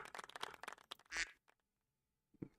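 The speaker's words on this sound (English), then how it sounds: "The quack will be our drum roll." A soundboard duck quack effect plays as a quick run of nasal quacks, then a brief pause and one more short quack, standing alone without talk.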